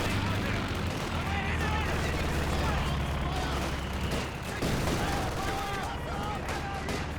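Mortar fire in the video game Company of Heroes 2, heavy booming shots blending into a dense, continuous wash of battlefield noise that stays loud and steady throughout.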